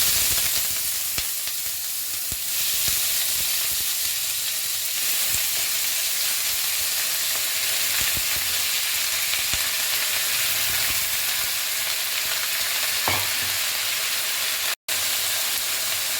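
Onion with whole garam masala (cloves, cinnamon, cardamom) fries in oil, a dense continuous sizzle with light stirring noises, steady and close for the whole stretch, with a brief dropout near the end.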